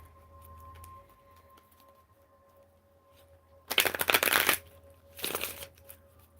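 Three tarot decks, Gold Foil, Light Seers and Mind's Eye, shuffled together in two bursts of dense riffling card noise, close and fairly loud, separated by a short pause and with a faint background hum.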